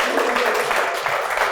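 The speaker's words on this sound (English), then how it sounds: "let's give a big round of applause to the best damn housing director in America" Audience applause at a housing agency's 20th anniversary celebration, honoring a housing director; a steady broadband wash of many hands clapping together, dense and even throughout with voices mixed in.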